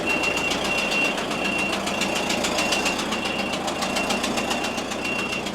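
A large farm tractor engine runs steadily at idle, a loud continuous rumbling drone with a knocking pulse and a high whine layered over it, with no talking.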